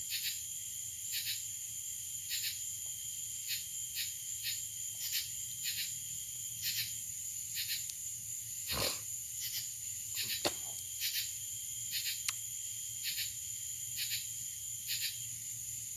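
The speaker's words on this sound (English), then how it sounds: "You can hear the crickets, whatever that is, some little birds, some little tree bugs or something." Crickets and tree insects chirp steadily in a rural country night setting, with faint little bird calls and a few brief knocks, a soft continuous outdoor ambience with no talking.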